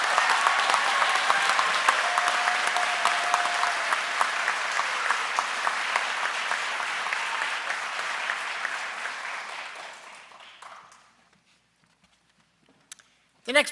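Audience applause for a police academy graduating class at a college graduation ceremony, sustained and loud for about ten seconds before fading out, followed by near silence with a few faint clicks.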